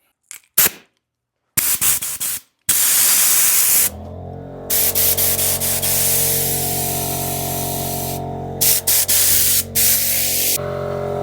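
A pneumatic air tool runs on compressed air from a full compressor, fitted with a swivel kit: short loud bursts of hissing air and motor whir, stopping and restarting, then longer sustained runs with brief pauses.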